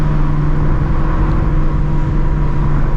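Ford Shelby GT350 fitted with long tube headers pulling under hard acceleration, a loud steady engine drone heard from inside the car, continuous and close with no talking.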